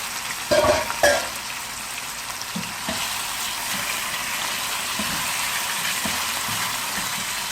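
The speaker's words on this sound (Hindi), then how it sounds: "इसको हम लगभग 5 मिनट के करीब फ्राई करेंगे मीडियम फ्लेम पे।" Chicken with ginger-garlic paste frying in a pan over a medium flame, a continuous close sizzle with a few loud clanks of utensils at the start, then steady crackling.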